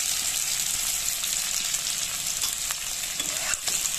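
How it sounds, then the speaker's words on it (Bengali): Chopped onion frying in hot oil in a pan, a loud, dense, continuous sizzle with faint occasional stirring taps, no voices. "পেঁয়াজ আর বেগুনটা আমি এই তেলে ভাজবো। তেলটা আমার গরম হয়ে গেছে।"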